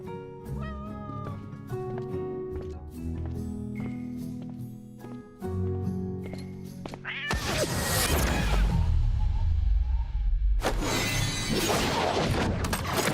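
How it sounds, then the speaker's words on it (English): A cat meows repeatedly over the first half during an Honor of Kings esports group-stage stream, before loud crashing, booming game effects take over. "my cat."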